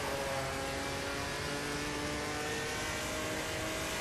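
Opala 86 stock car engine from the Automobilista 2 racing game, a loud steady drone held throughout with dense harmonic hum and no breaks, no talk.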